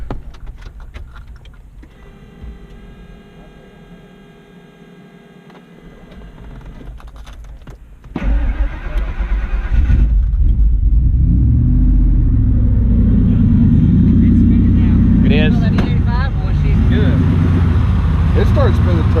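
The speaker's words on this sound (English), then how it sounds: "It started spinning turbo before it even fired." A turbocharged engine in a 1000+ hp capable truck cranks over, catches and starts, then settles into a loud, steady rumbling idle with revving swells, after quieter clicking and whirring at the start and with people talking nearby.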